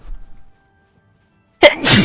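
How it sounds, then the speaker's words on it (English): A single loud, explosive human sneeze bursts out after a moment of near silence, close to the microphone and trailing into a breathy exhale. "I mean, I am going to sneeze."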